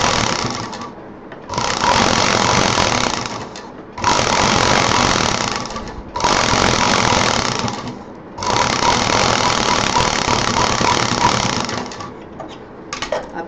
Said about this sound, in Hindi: इन दोनों को मिला के यहाँ पे हम सिल देंगे।